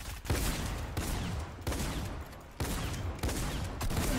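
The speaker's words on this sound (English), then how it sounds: "Why am I shooting him with my shotgun?" Shotgun blasts in Fortnite come as several loud, booming shots at roughly even intervals, each one sharp and close over a dense game background.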